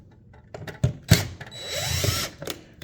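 A power drill or driver backing out the two screws holding a wired smoke detector base, with short clicks, then a brief whirring run, close and moderately quiet.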